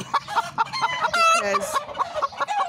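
Hen clucking close by in a chicken coop while eggs are collected, a broody bird giving repeated short clucks with a brief crow-like squawk in the middle, a voice talking quietly over it.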